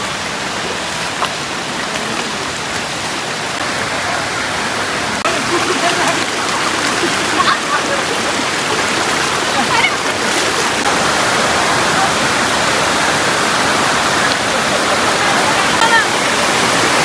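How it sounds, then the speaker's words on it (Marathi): Tamhini Ghat waterfall, clean cold water pouring down, makes a loud steady broadband roar that swells slightly midway and holds close and continuous throughout, with no voices breaking through. "तामणी घाटाचा वॉटरफॉल, ह्याला म्हणतात तामणी घाट वॉटरफॉल"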